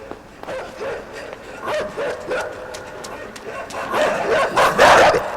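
A dog in the video game INSIDE barks and yips in quick uneven bursts, growing louder and more frantic toward the end, mixed with game sounds and no clear speech.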